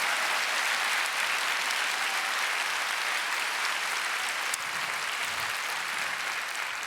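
A church congregation claps at a Thanksgiving Sunday testimony service: dense, steady applause from many hands that fills the room evenly and holds without pause throughout.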